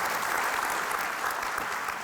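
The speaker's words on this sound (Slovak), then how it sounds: "keď môžete, prosím, jeden potlesk pre všetkých" An audience at a public city meeting in Košice applauds steadily, a dense continuous wash of clapping hands at close range with no voices over it.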